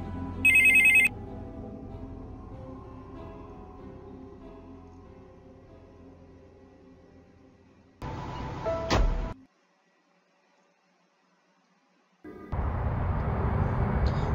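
Telephone ringing in the Criminal Minds video game: a brief electronic ring at the start over a low ambient game soundscape, followed later by bursts of louder noise.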